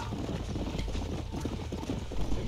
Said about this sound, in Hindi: एक लड़की घोड़े पे हमारे आगे आगे भागते जा रही है, हम उसको चेस कर रहे हैं और वो हम भी घोड़े पे हैं